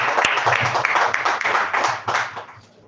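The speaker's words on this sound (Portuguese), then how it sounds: "Aplauda o Senhor nessa noite." A church congregation claps during an evening service, a busy flurry of many hands at close range that holds steady and then fades out toward the end.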